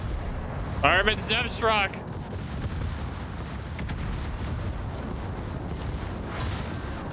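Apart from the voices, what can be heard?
naval artillery gunfire in the video game World of Warships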